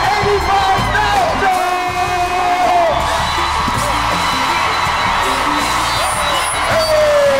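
A loud comedy show crowd in Richmond cheers and whoops continuously, with voices rising and falling in a sustained roar of excitement.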